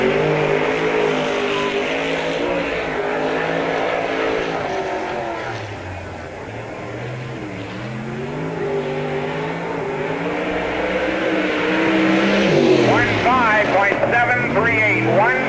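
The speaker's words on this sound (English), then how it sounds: "Mark Anderson driving the black car number 6 on the clock" Race car lapping the Spoon River Speedway dirt oval during a timed run at the 1998 Summer Nationals, its engine droning loud and continuous with rising and falling revs under an announcer's voice.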